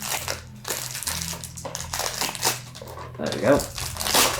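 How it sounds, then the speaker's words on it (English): Crinkling and crushing of cellophane wrap being pulled off a Japanese PlayStation 2 game case, close and fairly loud in bursts, with a few words spoken over it. "Let's take the cellophane off."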